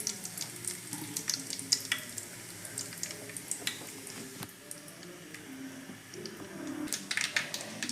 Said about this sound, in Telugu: ఆయిల్ పోసాను, గిన్నె పెట్టి పోపు దినుసులు, జీలకర్ర, ఆవాలు, ఎండుమిర్చి, కొంచెం మిర్చి టపటమన్న తర్వాత కరివేపాకు వేసుకుందాం